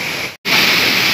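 A waterfall rushes as a loud, dense wash of noise, cut by a brief dropout before the roar returns just as strong.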